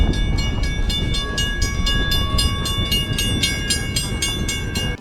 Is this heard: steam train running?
yes